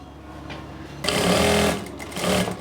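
A sewing machine stitches a seam along the bottom of a stylish summer top, a short burst of fast whirring after a quiet pause, then a second brief run.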